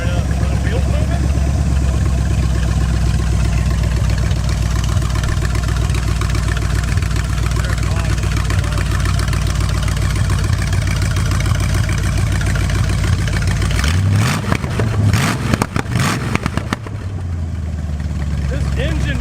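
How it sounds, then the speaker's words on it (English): Abandoned muscle car's V8 engine, first start in 35 years, runs at a steady loud idle with deep low rumble, then revs and sputters briefly near the end; a voice talks over it. "I didn't even touch it, it just starts right up."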